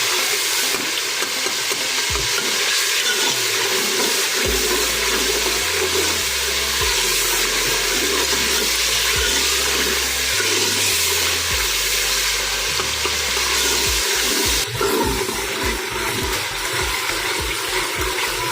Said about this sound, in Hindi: मसाले को 10 से 15 मिनट तक हम अच्छे से भून लेंगे।